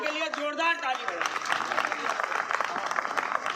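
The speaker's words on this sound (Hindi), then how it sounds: "अरे यार, के लिए जोरदार ताली बजाएं।" Audience applause at a Hindi poetry gathering (kavi sammelan), someone talking briefly before a burst of sustained clapping fills the hall and carries on steadily to the end.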